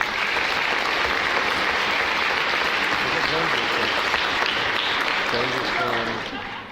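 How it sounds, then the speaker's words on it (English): Audience applause at a nursing and paramedic school graduation ceremony, a steady, dense wash of clapping that holds loud for several seconds before tapering off, with cheering voices mixed in. "Let's give each one of our speakers another round of applause."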